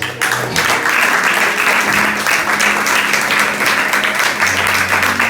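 Sustained, loud applause from a church congregation at a Sunday thanksgiving service, dense and even throughout, with a low hum underneath.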